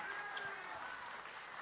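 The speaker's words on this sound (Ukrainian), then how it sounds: "Дякую дуже за такий прийом, за ваші оплески" Audience applause at a live stand-up comedy monologue show in Sumy, Ukraine: a steady wash of many hands clapping, fairly faint and distant, running continuously without breaks.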